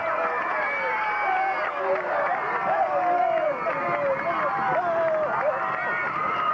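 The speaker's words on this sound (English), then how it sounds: "The Fairlawn crowd goes crazy" A 1983 high school football crowd, Fairlawn fans, roars steadily after a touchdown, a dense wash of cheering and shouting voices under a busy, continuous din.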